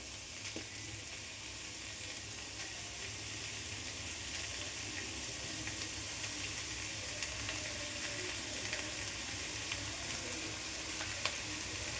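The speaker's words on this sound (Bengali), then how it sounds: "দেখো এবারে জলটা শুকিয়ে গেছে, এর মধ্যে কিন্তু আমি এই চিকেনের পিসগুলো আমি কিন্তু দিয়ে দিচ্ছি।" Chicken pieces go into a pan once the water has cooked off for a chicken stew, producing a steady, even sizzle throughout with a few faint clinks, at moderate distance and without speech.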